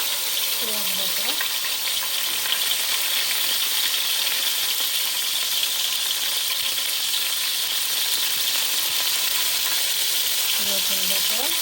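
Onion and garlic paste fries in oil for a rui fish curry, a loud, even sizzle that holds for the whole stretch, with a voice speaking briefly near the start and end.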